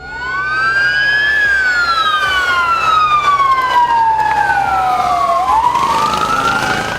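An ambulance siren wails loudly and close, its rising and falling tones sweeping continuously, with a second siren overlapping near the end.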